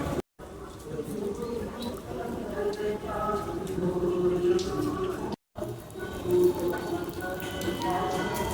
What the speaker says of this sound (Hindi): और बारिश भी आ रही है हल्की हल्की